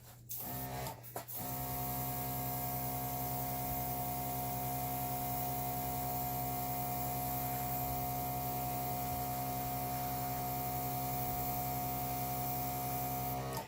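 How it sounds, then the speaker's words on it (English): An airbrush blows acrylic paint in the corners of a flower dip paint pour, giving a steady, even hiss with a constant hum beneath, close and unbroken after a brief start-up sputter. "I'm going to take my airbrush because, you know, that's just me. And I'm going to blow this out a little tiny bit in the four corners"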